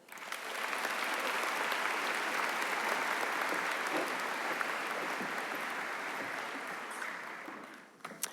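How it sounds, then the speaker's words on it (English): A long round of applause for the dignitaries and administration at a high school commencement ceremony, a steady broadband wash of many hands that swells quickly, holds evenly for several seconds, then tapers off at the end. "let's give all of our dignitaries and administration a round of applause"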